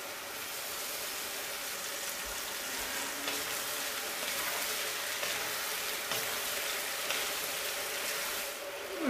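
Potatoes and onion sizzle and crackle steadily in a hot pan, a dense continuous frying hiss at close range with no voices.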